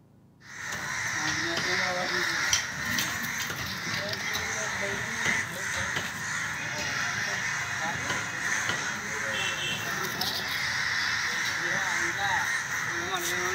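Crows caw loudly and repeatedly at a daily market in Tatipaka, Konaseema, a dense, overlapping flock calling near and continuously, with a voice talking underneath.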